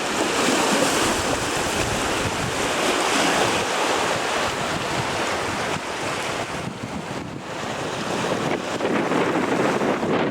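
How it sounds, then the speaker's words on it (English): Wild, choppy waves on Loch Ness, a loch fed from the sea, surge steadily and loudly throughout, with heavy wind buffeting the microphone and no voices. "Very wild and choppy, this water, and it does come in from the sea."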